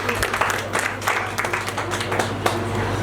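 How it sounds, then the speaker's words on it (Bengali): Audience applause at a Rabindra Jayanti celebration held at a club: steady, dense clapping from a crowd that fills about three seconds at an even level, with faint voices mixed in. "একবার হাততালি হয়েছে।"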